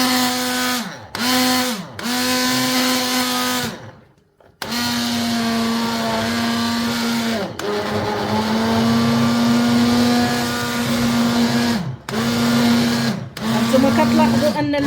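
A blender grinds tomatoes into sauce, running loud and steady in several long bursts with brief stops between them and a whining motor pitch that shifts as the load changes.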